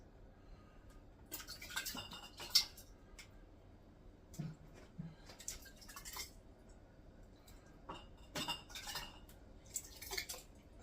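Chili ladled into glass canning jars, with scattered soft clinks, taps and scrapes of utensils against glass and pot at close range, quiet and intermittent with pauses between.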